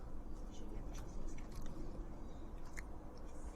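Someone chews a bite of brown sugar bourbon pork chop close to the microphone, with soft, moist bites and faint crunches over a low background hum.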